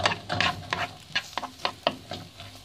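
Onion frying in four spoonfuls of oil for a pie filling, a low sizzle punctuated by several sharp scraping stirs close by.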